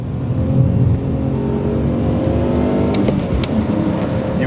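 A BMW E46 M3 engine hums loudly and steadily, with a low rumble and a slight rise in revs, heard from inside or near the car.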